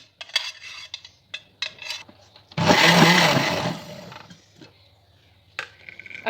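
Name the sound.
electric grinder grinding ginger garlic paste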